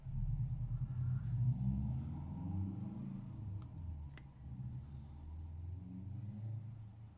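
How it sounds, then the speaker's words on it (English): Low, muffled rumble of traffic on a busy road heard through closed windows indoors, swelling and fading as vehicles pass, moderately faint and continuous. "I live on a busy road, so you can probably hear the traffic"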